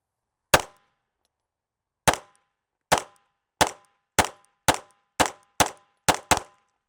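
Ten sharp, loud pistol shots from a Staccato XL Gold with an island barrel ring out alone. A single shot comes first, then a pause, then a quickening string of nine evenly spaced rounds.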